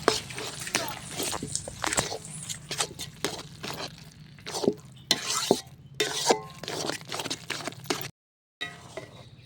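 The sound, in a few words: stirring taro leaves (kochu shaak) while cooking in a pan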